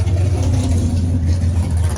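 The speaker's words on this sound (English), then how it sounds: "A bunch of racing already going on, warming up the car" A modified Exocet car with a supercharger and blown-out cats warms up at roll races, its engine droning in a steady, loud, low rumble with a slightly uneven throb.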